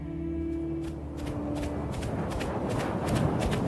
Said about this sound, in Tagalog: Kahit napakatuli ng takbo ng kabayo